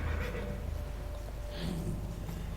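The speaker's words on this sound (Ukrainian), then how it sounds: "Так, сідаємо на коня свого." A horse neighs in World of Warcraft as a player character mounts up, a clear whinny over steady in-game background sound.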